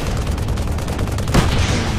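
Rapid gunfire in the video game Tribes Ascend, a dense, loud stream of shots with a heavier boom partway through.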